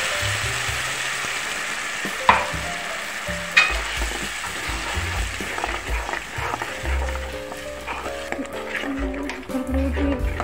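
Spice masala for chana curry hitting hot oil in a pan, a strong steady sizzle and frying hiss with stirring scrapes and a couple of sharp clanks, close up.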